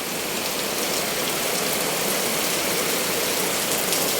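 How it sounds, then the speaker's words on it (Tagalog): Steady rain pouring down, a constant broadband hiss without pauses or voices. "Ayan ang ulan."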